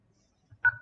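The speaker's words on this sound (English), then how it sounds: "Please press the pound key to finish your verification." A single short keypad tone from pressing the pound key on a phone set to speakerphone during an automated Azure Active Directory sign-in verification call, clear and brief against near silence.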